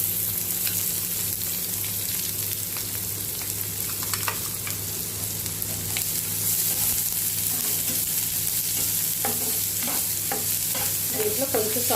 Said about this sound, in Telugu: కొన్ని ఆనియన్స్ వేసుకొని లైట్గా ఫ్రై చేసుకున్నాక